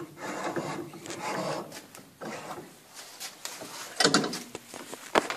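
A metal file rasps in repeated back-and-forth strokes close by, filing out a rectangular hole, followed by a few sharp knocks toward the end.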